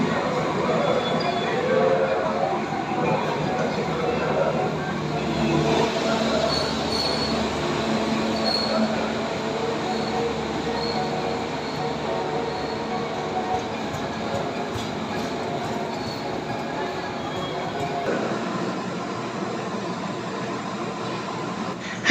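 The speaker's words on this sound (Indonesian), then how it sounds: "Sehingga kami pun mendokumentasinya dari rangkaian lokomotif hingga gerbong" KA Pangrango passenger train, a locomotive hauling economy-class carriages near Sukabumi, rolls past steadily with continuous wheel rumble, rail clatter and high squealing wheels, loud and close throughout, with faint voices underneath.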